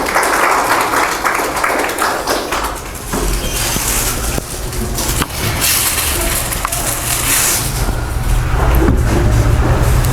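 An indoor crowd at a welcome ceremony gives a guest loud, sustained applause, a dense wash of clapping lasting about ten seconds that swells again toward the end.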